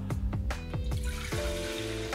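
Warm water pours into a baking pot in a short bursty stream with repeated splashing pulses, close and fairly quiet, no talking.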